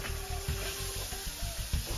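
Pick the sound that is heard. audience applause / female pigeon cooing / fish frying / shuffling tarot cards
fish frying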